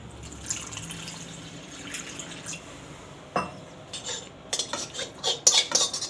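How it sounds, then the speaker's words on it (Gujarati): Cold water goes into a small amount of cornflour, then a spoon stirs it against the bowl with light, quiet clinks and scrapes that grow busier and sharper toward the end, with no talking. "આપણે પેલા ટાઢા પાણીમાં ઘોળી નાખવાનું આને એકદમ સરસ"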